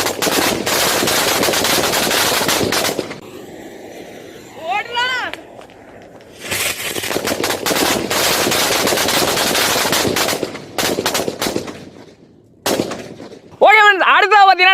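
Strings of firecrackers explode in long, dense bursts of loud rapid-fire crackling, broken by short pauses in which voices talk excitedly.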